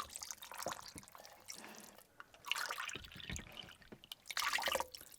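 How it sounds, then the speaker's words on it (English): Chicken broth pours into a cooking pot already holding onions, garlic, enchilada sauce, green chilies and tomatoes, giving splashy liquid bursts and drips in several uneven pours, close and moderately loud. "In goes the chicken broth."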